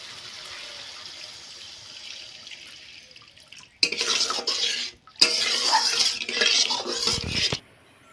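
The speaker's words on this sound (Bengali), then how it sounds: "এবার এর মধ্যে দিয়ে দিচ্ছি জল" Water poured into raw banana kofta curry gravy in a pan, a faint hiss first, then two loud bursts of splashing and gurgling with a brief gap between them, before it stops.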